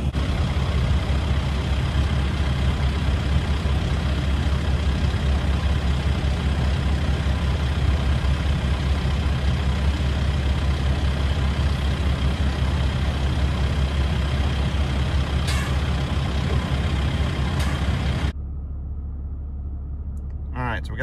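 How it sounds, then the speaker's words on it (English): A tractor engine runs at a steady, loud, low drone as the loader is lifted onto a trailer towed by a 2019 Ram 2500, then drops abruptly to a quieter hum near the end. "I'm actually gonna pick the loader up and I'm gonna bring the tractor up pretty heavy on the front."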